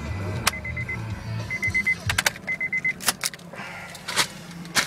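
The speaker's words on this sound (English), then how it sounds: "Let's cut the engine off." A 2008 automatic car idles with a low rumble at a dealership in the rain, then the engine cuts out partway through, leaving a few clicks and a repeating electronic chime.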